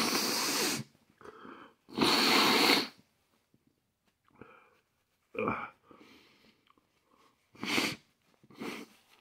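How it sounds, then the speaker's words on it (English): Someone blows their nose in several loud, close, breathy honks separated by pauses and softer snorts and sniffs, after eating a ghost pepper. "I blow my nose."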